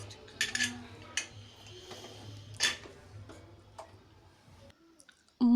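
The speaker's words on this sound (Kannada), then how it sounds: "ಈಗ ಇದನ್ನ ನಾನು ಮುಚ್ಚಳ ಮುಚ್ಚಿ ಪ್ರೆಷರ್ ಕುಕ್ಕರ್ ಮಾಡ್ತೀನಿ." A pressure cooker lid is handled and closed over pudina rice bhath, with several close metallic clinks and taps, then a quieter pause and a final sharp clunk.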